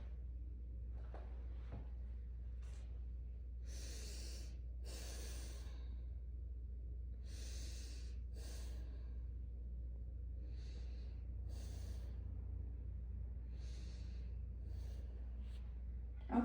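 A patient's normal breathing during a head-to-toe lung sound assessment: soft, steady breaths repeat in a slow rhythm, close and quiet over a low room hum, with no talking.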